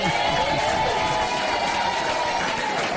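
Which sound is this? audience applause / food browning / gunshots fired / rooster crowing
audience applause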